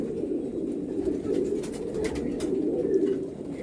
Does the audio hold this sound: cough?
no